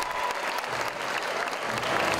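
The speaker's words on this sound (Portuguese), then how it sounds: "Na plateia, uma multidão e muitos aplausos." A large audience applauds steadily at a Christmas nativity show rehearsal, a dense, continuous clapping that fills the room from start to finish with no talk.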